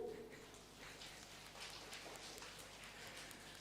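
A large group tapping fingers together to imitate rain makes a soft, steady patter that fills the space with dense, even rustling texture, with no clear voices on top.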